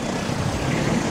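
A strange jet in the Elex 2 video game flies past as a steady, broad roaring rush of engine noise, held at an even loudness throughout.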